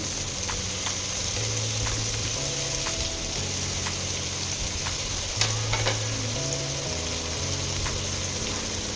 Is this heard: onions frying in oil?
yes